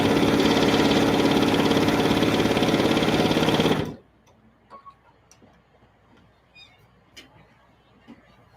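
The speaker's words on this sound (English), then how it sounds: "we're just going to sew those two together all the way down to the other end" A sewing machine stitching jelly roll fabric strips together, running as a loud, fast, even mechanical whir for about four seconds before stopping, then faint clicks and handling noises.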